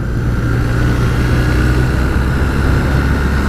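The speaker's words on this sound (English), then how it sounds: "the engine feels really lively" A 2019 BMW R1250R motorcycle's engine hums in a steady, loud drone while riding, blended with constant wind rush and no speech.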